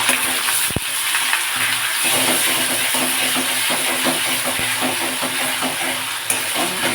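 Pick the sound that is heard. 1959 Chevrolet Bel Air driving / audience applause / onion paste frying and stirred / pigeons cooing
onion paste frying and stirred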